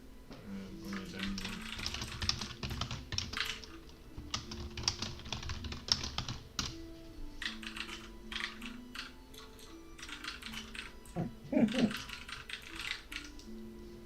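A computer keyboard clatters in quick, irregular bursts of typing at close range, with soft talking running through much of it.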